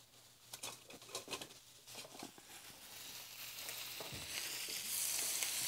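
Salmon fillets fry in a hot pan with a steady, close sizzle that grows louder and denser toward the end, with scattered pops and spatters and no talking.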